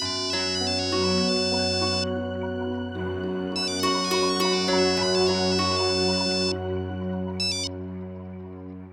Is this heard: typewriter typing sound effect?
no